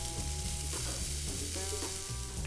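Tuna steaks sizzle loudly on a hot Blackstone griddle with olive oil, a dense continuous frying hiss close up with brief scraping and clattering.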